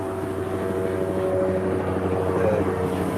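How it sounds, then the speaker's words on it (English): Helicopter circling overhead near an outdoor barbecue of pork skewers, a steady rotor drone holding loud and continuous throughout with no talk. "we still got that helicopter going around"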